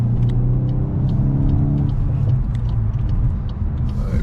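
A car engine hums steadily from inside the cabin as the vehicle drives and turns, with faint clicks above the low rumble.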